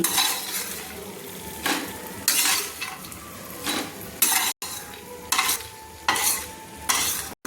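Bori lentil dumplings frying in a pan, a soft sizzle broken by repeated bursts of stirring and scraping with a utensil against the pan, each lasting under a second.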